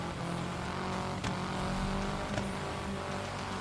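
Car in the racing video game Gravel drifting, a steady, loud engine drone held throughout with brief sharp bursts of tire noise and no talking.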